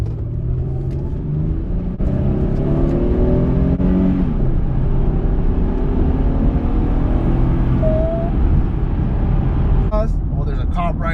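A 2007 Honda Odyssey EX-L with a 3.5 V6 accelerates hard, heard from inside the cabin. A deep engine drone climbs steadily in pitch over road rumble while a person talks over it.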